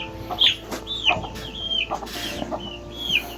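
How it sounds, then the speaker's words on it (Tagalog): Several chickens cluck and call in short, scattered bursts at moderate distance, against a quiet farmyard background. "Marami ka palang mga alagang manok dito lo, no?"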